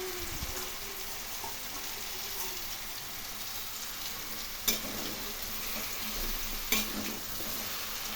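Grated ginger and green chili added to a sizzling mixed vegetable curry and stirred, a steady close frying hiss with occasional utensil scrapes against the pan.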